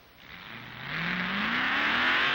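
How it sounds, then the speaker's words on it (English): A tractor engine at the Boilermaker tractor pull, a 1975 Purdue University event, revs up steadily, its pitch climbing as it grows louder and roars close by. "A new sport came to Purdue this fall with the running of the first annual Boilermaker tractor pull"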